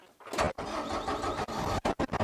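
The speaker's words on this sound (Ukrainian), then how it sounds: "І трактор у нас запустився." A KIY 90-horsepower tractor's diesel engine cranks briefly and then catches, settling into a loud, close running rumble with a few abrupt sharp breaks near the end.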